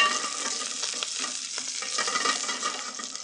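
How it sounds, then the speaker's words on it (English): Loud, continuous sizzling and crackling of curry leaves frying in hot oil, close up, with occasional stirring sounds. "we're going to sizzle those curry leaves in the hot oil"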